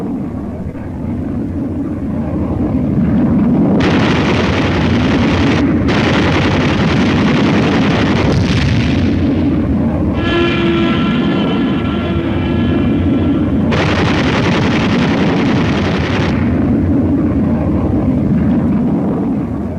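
Rumbling blasts and booming bursts from Korean War-era fighter planes striking ground targets with bombs and rockets, a loud, continuous barrage with repeated heavy detonations and a droning engine passing through the middle.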